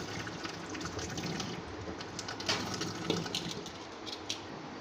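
Water pours and swirls while a mixer jar is rinsed out, a steady splashing flow with a few sharper sloshes and drips, moderately close and with no talking.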